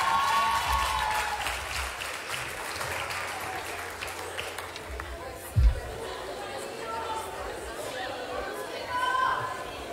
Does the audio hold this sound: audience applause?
yes